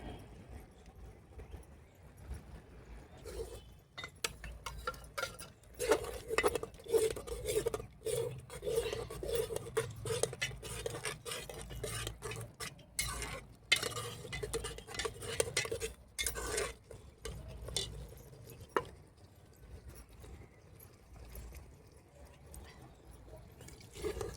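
A spoon stirs a mixture of blood and millet flour in a metal pan, giving steady scraping, clinking strokes and soft wet sloshing that repeat rhythmically, close and fairly quiet.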